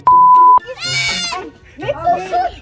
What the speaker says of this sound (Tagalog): Nananahimik yung kambing, biglang naisama sa groupie.